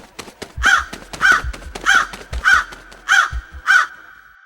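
A crow calls six times in a slow, evenly spaced series of loud, harsh caws, close and clear against a quiet background with no talking, opening a podcast.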